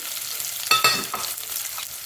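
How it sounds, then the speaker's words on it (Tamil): Mustard seeds, fenugreek, garlic and dried red chilies frying in hot oil, a close, steady crackling sizzle with a brief burst of stirring and popping near the middle, no voices. "கடுகு பொரியட்டும் வெந்தயமும் நல்லா செவக்கட்டும்"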